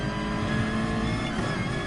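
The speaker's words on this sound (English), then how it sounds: "What are the engine noises like for the people watching and compared to my microphone sound?" A BMW M6 GR3 race car engine in a racing video game holds a steady, loud, buzzing note, a continuous roar heard up close with no talking.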